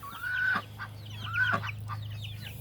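Ducks and chickens call near a homemade automatic chicken feeder, two loud honking, clucking bursts close by followed by scattered softer clucks over a steady low hum.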